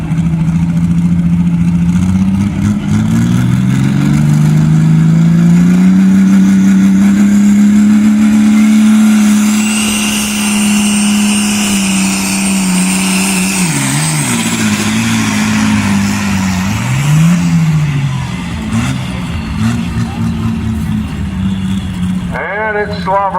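A loud, sustained roar from a pulling truck engine revving hard during a Franklin County Fair truck pull. The pitch swells and dips several times, and the engine is heard close and continuous throughout.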